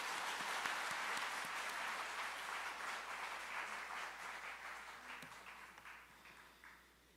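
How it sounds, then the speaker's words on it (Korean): A church congregation applauds during a 70th-anniversary thanksgiving service and ordination ceremony: dense, steady clapping that fills the room and gradually tapers off toward the end. "박수하겠습니다."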